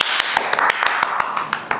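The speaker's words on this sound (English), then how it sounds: "Can you please clap for her?" Students in a classroom clap for a classmate, a brief burst of brisk, evenly spaced claps lasting about two seconds.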